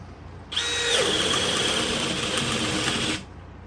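A HyperTough brushless drill bores with a 1 1/8 inch bit, running in one steady, loud, high-pitched whine for about three seconds before cutting off abruptly.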